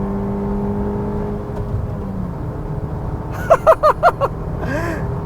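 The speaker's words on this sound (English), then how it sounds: "Listen to that engine." A Suzuki Dzire's engine hums steadily at first, then gives a quick run of about five sharp, rising revs as the car accelerates hard, up close and with no talk.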